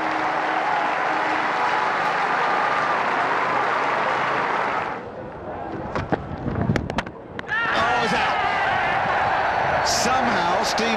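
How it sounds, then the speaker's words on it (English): Cricket crowd applauding a departing batsman at a Test match in Auckland, loud sustained clapping that breaks off midway for a few thuds and knocks, then resumes strongly, with a commentator's voice over it. "The majority of the crowd give him a good reception."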